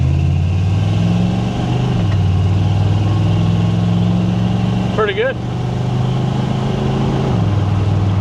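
An old pickup truck with a budget exhaust idles with a deep rumbling exhaust, pitch shifting as it revs slightly; a brief voice speaks midway.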